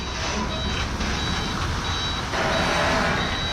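Reversing beeps from an Isuzu GXZ360 trailer truck backing up, a steady repeating electronic tone over a constant loud diesel engine rumble, with no talk.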